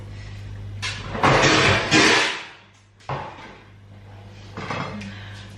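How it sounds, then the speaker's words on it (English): Kitchen clatter of a chopping board being pulled out, with a couple of loud knocks and scrapes of wood and cupboard against a steady low hum, then a few softer bumps. "Let me get a chopping board."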